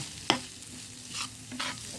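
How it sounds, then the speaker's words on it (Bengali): Fried vorta with coriander leaves being stirred in a pan: a sharp spoon scrape, then soft intermittent scraping swishes over a quiet, steady sizzle, close and fairly faint. "আমি মাঝে মাঝে এভাবে নেড়ে চেড়ে নিচ্ছি"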